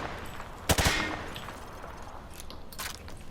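Gunfire at a shooting range in the video game Call of Duty: Modern Warfare 2: a sharp, loud burst of rapid shots near the start, then fainter scattered shots later over quiet background noise.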